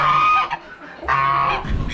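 A hen clucks at an Amish animal auction, with short nasal calls close by and other fowl and crowd noise mixed in around them.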